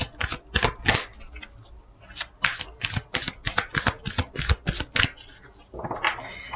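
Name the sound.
shuffling animal oracle cards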